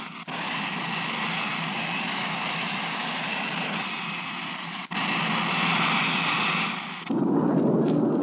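Bombs released from a bomber in a 1958 US Air Force film explode as a sustained, heavy rumbling roar, with a sharp blast near the middle and a deeper boom toward the end.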